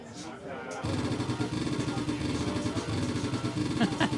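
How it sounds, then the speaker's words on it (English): Recorded motorcycle revving played back in a demo, a continuous rumbling engine with repeated throttle surges after a short quiet start, fairly faint overall. "Sounds like a revving motorcycle."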